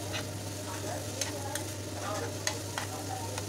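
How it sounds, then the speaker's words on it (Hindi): Snack frying in a pan with black salt and chaat masala, sizzling steadily as a spoon stirs it, with sharp scraping clicks over a continuous loud hiss and no voices. "अच्छे से फ्राई कर लेंगे"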